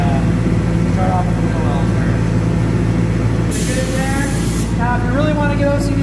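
Krown undercoating sprayed into a car's wheel wells: a hissing spray burst of about a second in the middle, over a steady low mechanical hum, while someone talks throughout.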